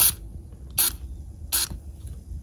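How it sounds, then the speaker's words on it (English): PB Blaster penetrating oil is sprayed onto an internal nut on a Mercruiser Alpha outdrive shift cable slide, in three short, sharp hissing bursts spaced evenly apart, close by, with no talking. "I'm going to spray that internal nut with PB Blaster."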